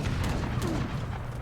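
Heavy cannons fire in a strategy game battle, a dense, rumbling barrage of booming shots layered over one another, steady and loud across the whole stretch.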